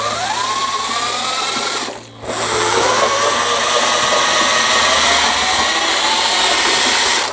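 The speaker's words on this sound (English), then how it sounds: "The one thing about using a good quality SDS drill with a brake on it is when you let go of the trigger" SDS drill with a brake, fitted with a mixing paddle, churns liquid latex floor screed in a steady, loud whir that runs almost the whole time, dipping briefly once as the trigger is released.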